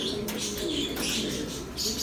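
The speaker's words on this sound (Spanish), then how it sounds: "Están buenas estas palomas." Pigeons cooing, including Geniense and Golguera breeds, in a low continuous murmur of coos with some chirps and faint wing flutter, steady and fairly close.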